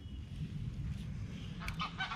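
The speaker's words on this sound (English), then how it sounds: "Couple of geese." A couple of geese honk a few times near the end, faint and distant over a low background rumble.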